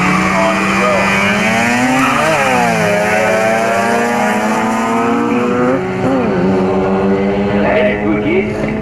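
Drag racing cars, including a rotary 13B-engined coupe, roar loudly at Oran Park drag strip in the early 1990s, engines rising and falling in pitch through gear changes, close and continuous with a commentator talking over them.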